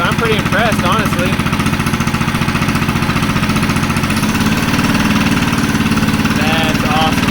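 A rock mower engine with no muffler, running for the first time in a long while, roars loud and steady with a harsh, even idle rhythm. A voice speaks faintly over it.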